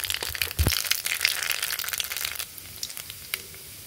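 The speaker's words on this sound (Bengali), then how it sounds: "তেল গরম হয়ে গেছে, এখানে দিয়ে দিচ্ছি" Chopped onion, green chili and nigella seeds drop into hot oil with a sharp burst of crackling sizzle that settles into a steady fry, loud and close with no voices.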